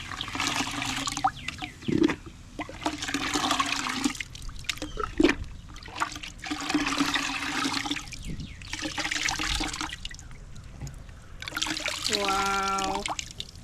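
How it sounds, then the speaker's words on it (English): Water running and trickling as seashells are rinsed in a bowl after a muriatic acid clean, nearly filling it to overflowing; a steady rush and splash continues throughout, with a voice speaking briefly over it. "Our bowl's gonna overflow."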